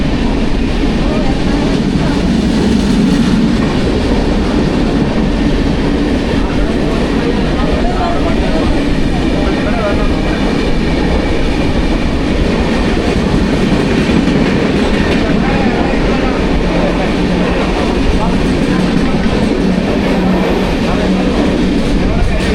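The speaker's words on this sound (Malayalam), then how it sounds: "അവിടെ നിന്നൊരു ട്രെയിൻ വന്നുകൊണ്ടിരിക്കുന്നുണ്ട്." A train pulls into a railway station with a loud, continuous rumble and wheel clatter that lasts throughout.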